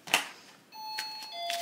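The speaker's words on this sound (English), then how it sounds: "Uh-oh, doorbell." A doorbell rings indoors with a sharp first strike followed by sustained bright electronic chime tones, two or three notes ringing out clearly and alone.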